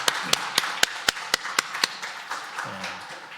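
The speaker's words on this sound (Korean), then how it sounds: "우리 박수로 한번 함령하도록 하겠습니다." Several sharp claps in a steady rhythm, about eight, from a congregation at a Sunday church worship service, fading into quiet room noise with faint murmuring.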